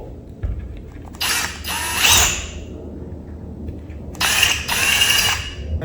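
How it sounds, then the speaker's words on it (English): A power drill drills two holes for plastic anchors in two separate bursts with a quiet pause between them, close by and loud, with a faint mechanical rattle underneath. "Grab your drill, insert the drill bit, and drill out the 2 holes."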